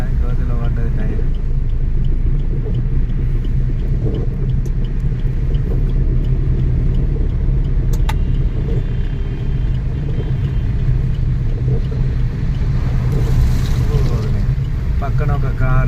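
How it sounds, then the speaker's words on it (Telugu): A car drives along a rainy road, its interior filled with a steady low rumble and road noise throughout, while a voice talks over it. "పక్కన ఒక కారు కొట్టేసరికి వాటర్ అంతా వచ్చి మన కారు మీద పడ్డది."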